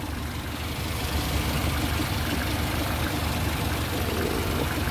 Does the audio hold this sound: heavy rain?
no